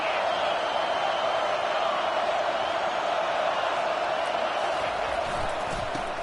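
A college football stadium crowd roars in a dense, steady wash of cheering that holds at the same loud level throughout, with a commentator's voice faintly mixed under it.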